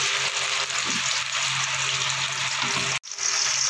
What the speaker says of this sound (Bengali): এবার আমি মাছগুলো দিয়ে একবারে হবে না, দুবারে ভাজতে হবে